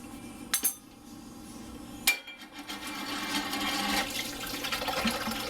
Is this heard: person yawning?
no